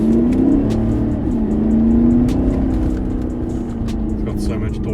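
A tuned 2013 VW Touareg V8 TDI with a Stage 2 remap and gearbox flash accelerating at full throttle, its loud diesel drone heard from inside the cabin, rising in pitch with a brief dip at a gear change.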